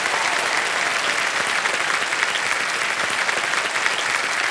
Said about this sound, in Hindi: जोरदार तालियां बजाएं के लिए।